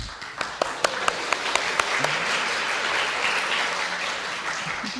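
A church congregation at a community worship service applauds, a few distinct early claps quickly swelling into sustained, even applause from a roomful of people.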